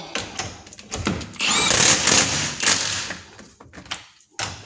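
Impact wrench tightening lug nuts on a rear brake drum in a workshop, a few short bursts of buzzing rattle with thuds between, fairly close.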